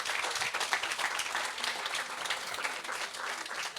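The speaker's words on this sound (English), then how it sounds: "Applause." A live audience at a sports festival talk applauds steadily, dense clapping filling the room for a few seconds with no voices.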